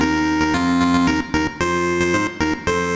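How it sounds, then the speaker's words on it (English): A brief bright electronic fanfare for the Virgin Games Presents screen of the game Robin Hood, punchy synthesized notes in quick, rhythmic bursts, with short gaps between phrases. "the fanfare for the Virgin Games Presents screen"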